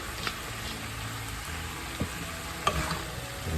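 Chayote squash sautéed in a pan with ground black pepper, sizzling steadily throughout while a utensil stirs it, making a few soft scraping knocks against the pan. Close and moderately loud, with no talking.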